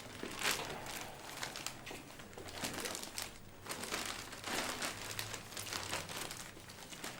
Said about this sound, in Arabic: هاتي لف لك اياه، هات كيس